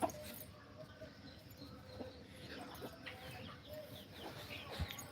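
Chickens cluck faintly at a distance in short scattered calls, set against low background noise outdoors.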